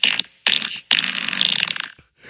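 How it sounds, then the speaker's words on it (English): A phone soundboard app called Fart World plays loud, raspy, sputtering fart sounds in three close bursts with brief silences between them. "I have downloaded the app Fart World onto my phone."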